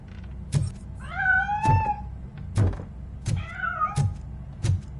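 A cat meows twice in the video game RoboCop: Rogue City, drawn-out wavering cries mixed with heavy thuds and knocks, fairly close, with no talking.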